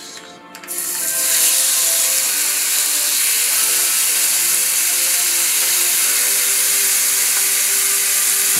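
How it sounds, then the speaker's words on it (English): Marinated shrimp, seasoned with cilantro and oregano for fajita tacos, hit a hot non-stick pan with a sudden loud sizzle that swells within a second and then holds as a steady, bright, crackling hiss. "So now that our shrimp is cooking, we want to make sure we put it in one layer"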